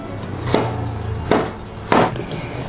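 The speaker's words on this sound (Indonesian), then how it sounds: "Pertama-tama aku mau potong-potong gula merah." A knife chops through a block of palm sugar (gula aren) on a board while making Thai-style baked nagasari, three sharp, loud, evenly spaced thuds close by over a low steady room hum, no talk.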